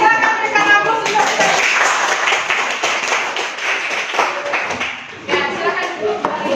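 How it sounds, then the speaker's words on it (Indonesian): Classroom applause from a group of students, a dense burst of many hands clapping at close range for several seconds, fading briefly before another flurry near the end, with voices mixed in. "Silakan berikan aplaus untuk"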